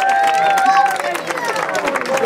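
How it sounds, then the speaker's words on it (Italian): A crowd at a charity beach soccer event applauds a young player, rapid clapping mixed with excited cheering voices and babble, fairly close and lively throughout. "Dai un applauso"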